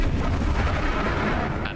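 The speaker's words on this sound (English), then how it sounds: "an explosion from below." An explosion sound effect in a documentary reconstruction of a gas blast in Puerto Rico, a loud sustained roaring boom that fills the clip and trails off slightly at the end.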